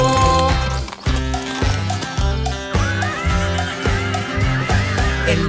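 A horse neighs within a Spanish-language children's farm song, heard over bouncy music with a steady thumping beat and clip-clop rhythm.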